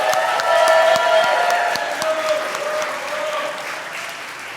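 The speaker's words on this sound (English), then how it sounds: "Let's give them a round of applause." Audience applause fills a New York City hall at a national youth entrepreneurship competition, a dense steady wash of many hands clapping that stays loud before tapering slightly toward the end.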